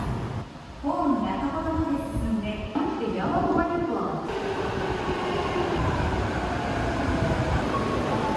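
Metro train in Japan running steadily close by, a loud continuous rumble with rising and falling tonal whine as the train moves, with a voice speaking briefly early on over the noise.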